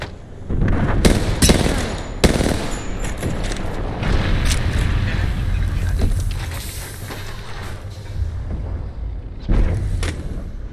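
Gunfire and explosive booms in the battle royale shooter Apex Legends, a steady barrage of shots with sharp cracks and heavy blasts layered over a rumbling firefight, loud and continuous.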